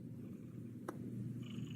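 A cat purring softly and continuously at close range, a low steady rumble with a brief faint click partway through.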